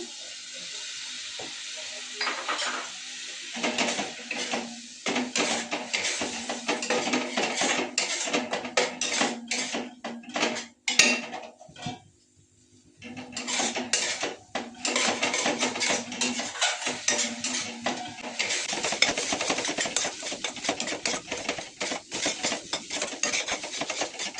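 Masala cooking in a pan with little oil and a splash of water for a singhi fish curry sputters and sizzles loudly. A spoon scrapes and clatters against the pan again and again, with a brief quieter pause midway.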